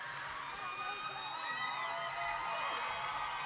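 An ice hockey arena crowd at a sold-out women's professional game cheers and whoops in a sustained, fairly distant roar, with scattered shouts rising above the wash of noise.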